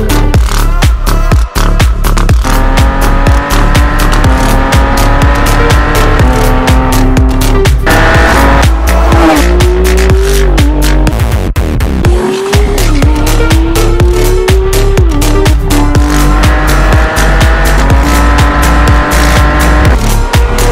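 A Porsche 911 991.2 GT3 RS sports car engine runs loud and close throughout, its pitch stepping and climbing between gears as it works down through fourth, third, second and first, with one brief dip mid-way.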